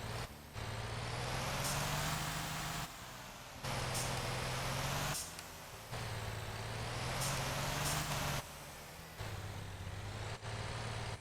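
In the Motor Town driving game, a B-double fuel truck revs hard in repeated bursts while its wheels spin, a loud droning engine roar that rises and drops off several times with brief pauses between pushes.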